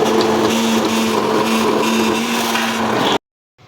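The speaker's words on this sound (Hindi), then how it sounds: "मैं इसको करूँगी हैंड ब्लेंडर से ना फटाफट ग्राइंड" A hand blender grinds cooked dal for beef haleem with a steady, loud whirring buzz that runs for about three seconds and then cuts off abruptly into silence.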